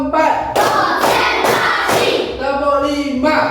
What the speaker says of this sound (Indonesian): mari kita tepuk dulu, ya